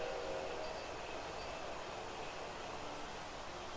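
An FP45 diesel locomotive from 1968 in the Railroad Tycoon 3 game rumbles along as a steady, hissing wash of train noise with no clear break.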